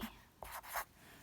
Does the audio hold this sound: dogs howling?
no